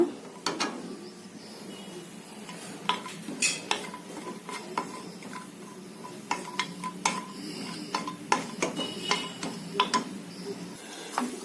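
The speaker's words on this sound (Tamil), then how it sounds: "முந்திரி பருப்பை வறுத்து எடுத்துக்கலாங்க" Cashew nuts roasting in ghee in a pan for Kasi halwa (white pumpkin halwa), heard as a soft sizzle under frequent close metallic clinks and scrapes of a stirring spoon.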